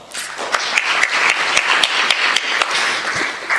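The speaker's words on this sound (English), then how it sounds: "Please give yourselves a round of applause." Conference attendees at a SAFNOG meeting break into a round of applause, a close, loud wash of many hands clapping with a few sharp individual claps standing out, steady until it trails off.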